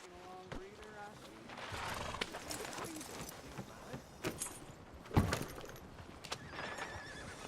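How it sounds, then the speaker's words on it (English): A horse in Red Dead Redemption 2 snorts and shifts with soft hoof clops and tack jingles, a louder snort or whinny near the end, while someone talks over it. "que cavalo bonito, velho"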